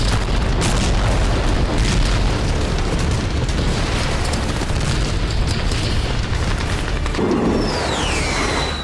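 Explosions and fire at a Russian airbase in Crimea: a loud, continuous roaring rumble of blasts and burning, dense and unbroken throughout, with a high whistling tone sweeping through near the end.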